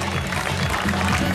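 Applause for young riders and their horses at an evening horse show in the historic centre of Castel di Lucio, Sicily, with a dense, fairly close burst of clapping across the whole moment.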